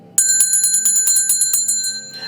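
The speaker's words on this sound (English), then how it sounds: "Ringing the bell, telling them come." A small bell rings in a quick run of repeated strikes, its bright, clear tones ringing on between hits, sounding close and alone with no voices.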